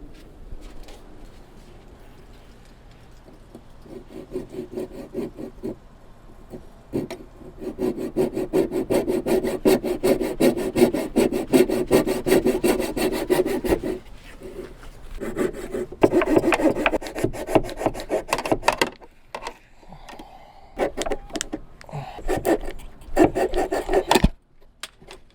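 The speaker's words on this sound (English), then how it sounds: "It doesn't really fit there, so I will just use a handsaw." Handsaw cutting through a layer of plywood in a van during a heater installation, a steady rasping back-and-forth stroke rhythm that builds and continues with brief pauses, close and fairly loud with no talk.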